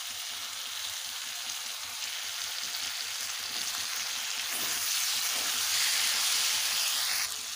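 A paste of cashew, poppy seed and green chili fries in a pan with potatoes, giving a dense, even sizzle throughout that swells slightly louder in the second half, with no voices.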